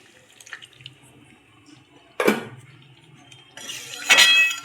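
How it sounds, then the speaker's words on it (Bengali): Water splashes from a vessel into a cooking pot of meat and potatoes, two short pours against quiet kitchen background with a faint clink beforehand. "এবার আর একটু জল দিয়ে দেব যাতে ভালো করে দুটোই সিদ্ধ হয়ে যায়"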